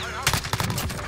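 An AUG rifle in Modern Warfare fires a rapid string of close, sharp shots, several punchy reports packed into about a second.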